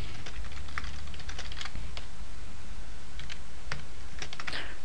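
Java code being typed on a computer keyboard, a quiet, steady patter of irregular key clicks with brief pauses between bursts.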